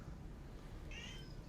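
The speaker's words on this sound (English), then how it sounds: "That's a kitty." A cat meows once, a short high-pitched call near the end, heard over steady background noise during a tabletop game session.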